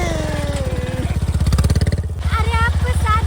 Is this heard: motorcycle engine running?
yes